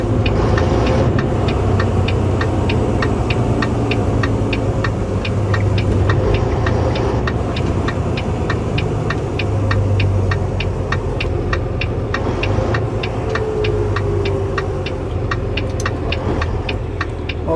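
Diesel engine of an RV hauler truck running with the engine brake on at full position, a loud steady throbbing rumble with rapid regular ticking knocks throughout, close and continuous.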